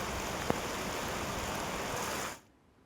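Rain falls steadily in South Gujarat, a soft, even hiss with one faint tap, cutting off suddenly near the end.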